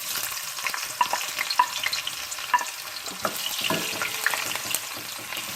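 Chopped onions fry in about half a cup of hot oil, giving a steady close sizzle and crackle broken by scraping stirs, with no voices.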